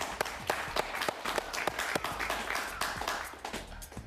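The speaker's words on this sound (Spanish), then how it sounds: "Un aplauso para él, por favor." A crowd applauds steadily, with sharp individual claps standing out over a continuous wash of clapping, fairly close and lively throughout.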